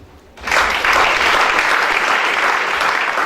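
A church congregation breaks into loud, sustained applause and cheering for Jesus during a sermon, a dense wash of clapping that starts abruptly and continues steadily.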